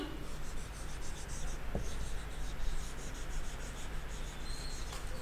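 Pen writing on paper for a school essay, with steady close scratching strokes running continuously throughout, alone and with no talk.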